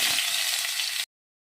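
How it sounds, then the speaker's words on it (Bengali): Chopped raw mangoes hit hot mustard oil tempered with a dried red chilli and black mustard seeds, setting off a bright, steady sizzling hiss that runs for about a second and then cuts off abruptly. "ফোড়নটা ভালো করে গরম হয়ে গেলে দিয়ে দেবো কেটে রাখা আমগুলো।"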